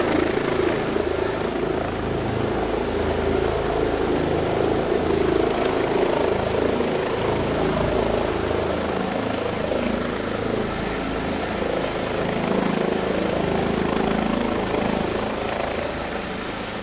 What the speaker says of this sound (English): kicking off with the H160, as far as I'm concerned, it's one of the sexiest helicopters